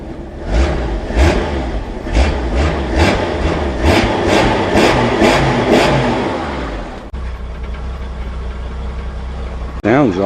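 A Jeep CJ7 engine fitted with a new MaXpeedingRods carburetor runs loudly close by, revving in repeated bursts before dropping back to a steadier idle, with a brief rev near the end.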